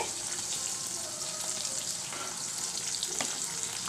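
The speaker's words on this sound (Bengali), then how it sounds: "এ দেখো দেখতে পাচ্ছ খিচুড়িটা ফুটছে" Khichuri of rice and lentils bubbling in a pot, a continuous close hissing, sizzling simmer with small pops and faint clinks, no talking.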